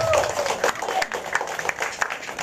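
A church congregation claps during a sermon, a loose scattering of hand claps with sharp irregular hits over a soft murmur, modest and fairly thin rather than a full ovation.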